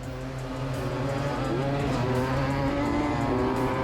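A Yamaha Tri-Z dirt bike engine races hard during a dirt bike shootout, a loud, sustained buzzing drone with rising and shifting pitch, heard up close without talk.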